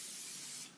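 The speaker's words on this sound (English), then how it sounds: "get your olive oil spray just on the pan there, get it a nice coating" A single continuous spritz of olive oil spray coats a frying pan, a close, bright hiss lasting under a second before it tapers off.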